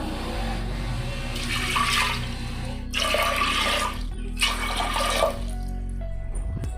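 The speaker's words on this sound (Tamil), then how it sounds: "ஒரு 3 டம்ளர் தண்ணி ஊற்றிக்கலாம்." Water pours into a pressure cooker of moth beans for a millet payasam in three separate splashing pours, one tumbler at a time, with short pauses between them over a steady low hum.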